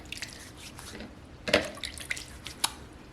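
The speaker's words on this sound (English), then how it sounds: "Okay, so I have some water right here, and I'm going to go ahead and I'll get my hands all wet here." Hands being wetted with water while making liquid soap from scratch: soft drips and splashes, a louder splash near the middle and a few sharp drips afterward, close and quiet with no talking.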